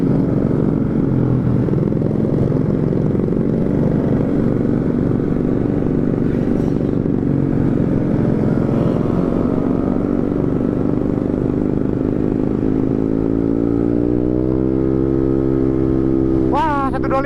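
Motorcycle engines rumble steadily on a night ride near Lembang, with a rising pitch sweep near the end as a bike passes close; a voice is audible underneath.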